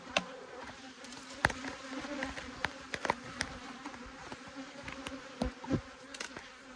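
Honey bees in a bee yard give a steady, faint buzz throughout, with individual bees droning close past now and then in brief louder swells.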